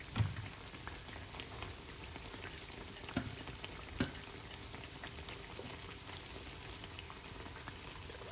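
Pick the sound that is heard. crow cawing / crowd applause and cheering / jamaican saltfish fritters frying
jamaican saltfish fritters frying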